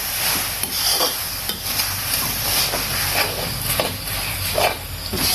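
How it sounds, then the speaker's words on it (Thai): Shrimp stir-fried with cha-om and shrimp paste, a continuous sizzle with hiss and repeated spatula scrapes against the pan as the seasonings are mixed in, close and fairly loud, without speech. "พัดให้เครื่องปรุงเข้ากัน"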